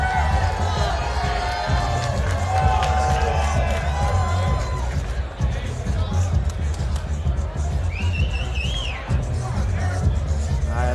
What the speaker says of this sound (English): The crowd is into it right now.